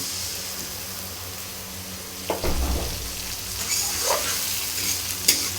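A wet paste of onion, ginger, garlic and cumin with turmeric and salt hits a hot pan, sending up a loud steady sizzle with a sharp burst at the moment it lands and scraping stirs afterward.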